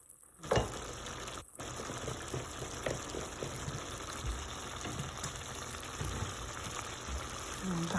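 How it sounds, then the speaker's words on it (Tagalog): Chicken and potato boiling in a pot on the stove, a steady bubbling and simmering texture with occasional stirring clatter, close and continuous throughout. "kumukulo na yan. Kumukulo na siya."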